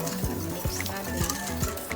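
A spoon stirs white sugar into a just-boiled coffee mixture in a pot, with regular scraping strokes about twice a second against the metal, close and clear, with faint clinks between.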